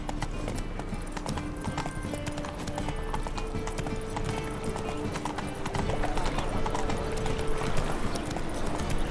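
Horse hooves clip-clop steadily at a gallop in The Witcher 3 video game, continuous and close, with faint game ambience and tonal music underneath.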